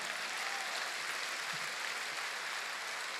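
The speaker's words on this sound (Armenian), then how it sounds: "թող ծափարի" Church congregation applauding, a dense continuous wash of many hands clapping at steady strength from start to finish, with no clear talk over it.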